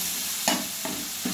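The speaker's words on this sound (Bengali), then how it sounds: "এরপর জল দিয়ে এটাকে একটু কষাতে থাকবো।" Tarka spice masala fries in a hot pan while being stirred, giving a steady close sizzle broken by three scraping stirs at a slow, even pace.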